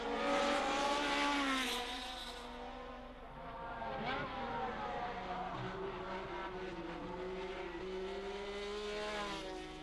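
1971 Formula 1 race cars overtaking slower cars, heard as a whining, shifting engine pitch that rises and falls as the cars pass, moderately distant, with a voice speaking over part of it.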